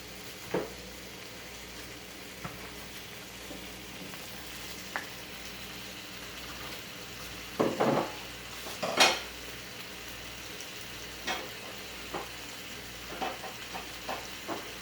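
Garlic, roma tomatoes and banana pepper cooking in a pan for spicy red salsa, giving a faint low sizzle broken by scattered clinks and scrapes of a utensil stirring, with two louder clatters midway and no talking.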